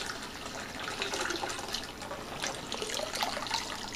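Water pouring steadily into a six-gallon wine fermenting bucket, a continuous soft splashing trickle heard close, with no talking.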